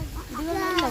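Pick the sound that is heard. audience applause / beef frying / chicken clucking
chicken clucking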